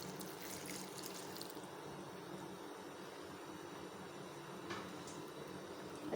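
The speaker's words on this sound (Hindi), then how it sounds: "अब हम थोड़ा सा पानी डालते हैं।" Water is poured into pakora batter in a kadhai pakora recipe: a faint, steady trickling and splashing hiss, close by and quiet, with no talk.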